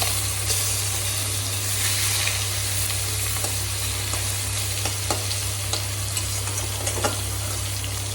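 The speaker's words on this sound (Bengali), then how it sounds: "সবচেয়ে মাছগুলো দিয়ে দিলাম তেলের মধ্যে একটা একটা করে।" Fish pieces frying in hot oil, added one at a time, giving a loud, dense, continuous sizzle with small pops and crackles throughout and no talking.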